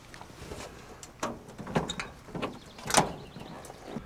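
A car hood is opened with a few faint metallic clicks and clunks scattered at irregular intervals, the loudest near the end, over a quiet background.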